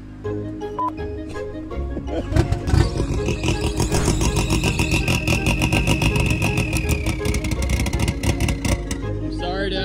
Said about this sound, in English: Eclipse isn't exactly neighborhood friendly. Cold starts, am I right?